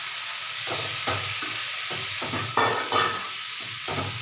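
Salted, turmeric-coated bitter gourd pieces go into a hot pan and fry with steady sizzling, broken by several louder scrapes and stirring bursts, close and continuous with no talking.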